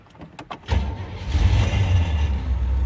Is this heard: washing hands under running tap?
no